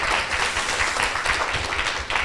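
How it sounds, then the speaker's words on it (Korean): Warm audience applause at a live podcast recording in Seoul, a steady wash of many hands clapping at close to moderate distance, continuing evenly without speech over it. "우리의 자랑스러운 역사에 뜨거운 박수 부탁드리겠습니다"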